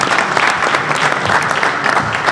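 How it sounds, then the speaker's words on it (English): A conference audience applauds the presenters at the close of a morning session of the CARICOM Reparations Commission, a steady dense clapping that holds at full strength for the whole stretch with no voices over it. "Let's give all of our presenters and a big round of applause."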